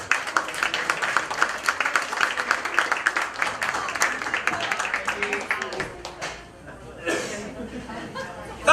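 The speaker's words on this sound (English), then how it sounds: "Give them a round of applause as they make their way up." An audience at a live comedy mind-reading show claps for volunteers heading up to the stage, with chatter and chuckles mixed in; the clapping thins out after a few seconds and scattered voices and laughter carry on.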